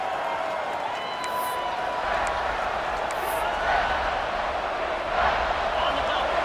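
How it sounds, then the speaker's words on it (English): Stadium crowd noise in the College Football 26 video game during a Michigan Wolverines dynasty match, a broad continuous rumble of cheering with faint whistle-like bursts, under a commentator's voice. "the crowd coming to life here"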